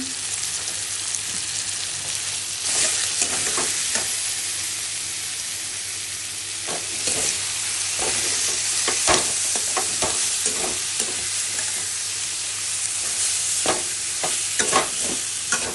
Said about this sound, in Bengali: কষিয়ে নিচ্ছি।